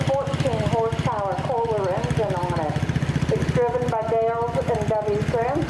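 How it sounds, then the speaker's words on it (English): A 1969 Minneapolis Moline 114 Town and Country tractor chugs past at an antique tractor show parade, its engine putting out a steady, pulsing idle close by while someone talks over it. "This is a 1969 Minneapolis Moline 114 Town and Country."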